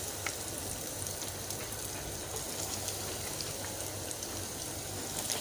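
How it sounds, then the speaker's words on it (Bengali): Bread and potato snack pieces frying in hot oil give off a steady, dense crackling sizzle, even and unbroken throughout with no voices. "এখন তেলটাও গরম হয়ে গেছে। এখন আমি 1 পিস করে দিয়ে দিচ্ছি।"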